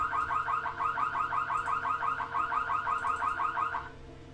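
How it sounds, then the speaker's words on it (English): A rapid electronic computer warning tone for high CPU temperature warbles in a fast repeating pattern for about four seconds, then cuts off, moderately loud over a low hum. "Apparently it's saying my CPU's on high temperature."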